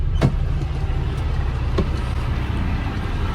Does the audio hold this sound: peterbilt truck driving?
yes